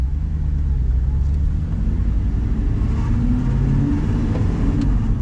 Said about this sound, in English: It's very smooth with a standard exhaust on.